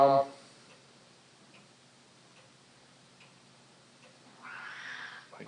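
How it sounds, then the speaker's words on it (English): A house cat giving a short, strained yowl near the end, faint and somewhat distant after a long stretch of near-quiet with soft ticking. "cat having a fit"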